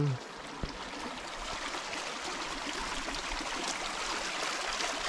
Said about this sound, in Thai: ลำธารไหลมาแล้วก็มีประตูน้ำตรงนี้